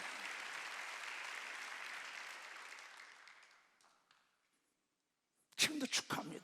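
A church congregation at a Wednesday worship service claps together, a broad steady roar of hands that fades out over a few seconds into silence, after which a voice begins speaking.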